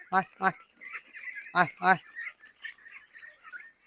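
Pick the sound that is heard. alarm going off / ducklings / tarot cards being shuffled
ducklings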